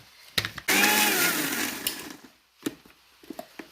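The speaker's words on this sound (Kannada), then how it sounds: "ಒಂದ್ಸಲ ಮಿಕ್ಸಿ ಎಲ್ಲ ಹರ್ಕೊಂಬ ಫ್ರೆಂಡ್ಸ್" A kitchen mixer grinder whirs loudly as it grinds chilli, salt and turmeric in one burst of about a second and a half, then stops, followed by faint clinks and handling noises.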